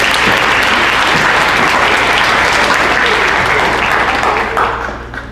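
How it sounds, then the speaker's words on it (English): A banquet crowd at an FFA chapter event gives sustained loud applause, dense and continuous before tapering off near the end. "Let's give another round of applause."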